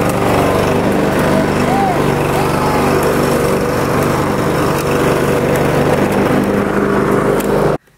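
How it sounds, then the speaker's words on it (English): A lawn mower drones steadily and loudly up close while the lawn is being mowed, its engine running without pause before cutting off sharply at the end, with voices mixed in. "while the boys are mowing the lawn"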